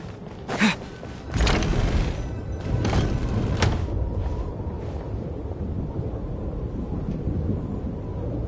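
A storm rumbles in Genshin Impact's Snezhnaya, with a sharp thunder boom early on, then a heavy, steady roar of wind and rolling thunder that carries on to the end.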